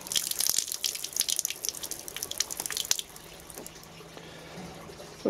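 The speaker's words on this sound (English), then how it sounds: "You've got a tap to control the water." Water pours from the tap of a Ridgemonkey 10-litre water container, a close, splashy trickle with dripping that stops abruptly partway through, leaving a quiet background.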